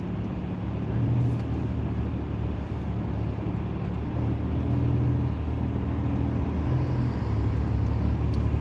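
Steady interior road rumble of a car driving smoothly through traffic, making right and left turns and changing lanes, with a continuous low engine and tire drone and no talking.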